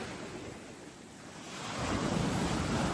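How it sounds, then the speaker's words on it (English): Ocean waves rolling onto a foggy beach: a soft wash of surf that quietens, then swells into a fuller rush as a wave comes in, with some wind buffeting the microphone. "have ears to hear the sound of these waves"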